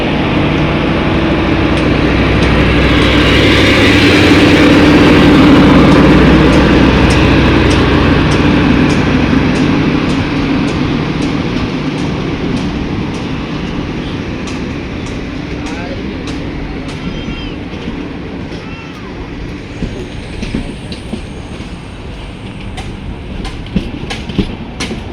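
An LHB-coached 16348 Thiruvananthapuram Central Express pulls out of Kanhangad station with a loud, close rumble that slowly fades, giving way to a steady run of rhythmic wheel clicks on the rails.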